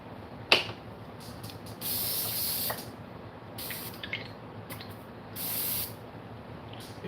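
An airbrush sprays thinned paint onto a fishing lure with a steady close hiss in several bursts of one to two seconds, separated by short pauses and a sharp click near the start.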